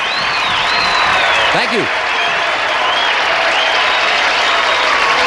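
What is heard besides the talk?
game show studio audience clapping out of tempo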